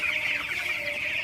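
Broiler chickens in hot weather cluck in a dense, continuous chorus of overlapping calls, fairly loud and close, with no talking.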